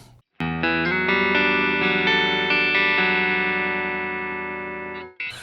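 An electric guitar runs through channel 1 of a budget $60 pedalboard, a single sustained, effected chord ringing out loud and alone for several seconds, slowly fading before a brief cut at the end.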